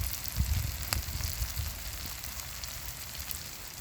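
Egg with tomato frying in a pan, a steady close sizzle and crackle with a few louder pops near the start, no talking.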